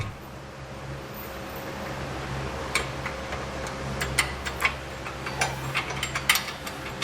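A flange nut being threaded by hand onto a stud of a Curt custom base plate on a 2020 Jeep Wrangler, giving faint, irregular small metallic ticks and clicks over a steady low hum.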